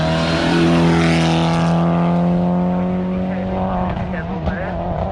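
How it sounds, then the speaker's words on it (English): Tommy Mackinnon's red Mitsubishi Evo 5 rally car races up the Shelsley Walsh hillclimb, its engine howling loud and close, then shifting down and fading as it pulls away, while a commentator talks over it. "leading the line in the Tommy Mackinnon Mitsubishi Evo 5 in red"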